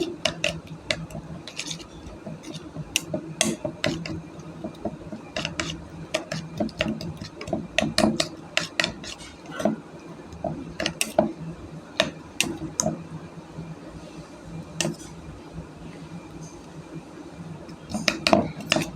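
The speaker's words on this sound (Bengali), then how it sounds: "ভালোভাবে ফেটিয়ে নেব।" A fork beats eggs with grated raw potato, chopped onion and green chilli in a bowl, rapid rhythmic clinks and taps of metal on the bowl that continue steadily at close range, with no talking.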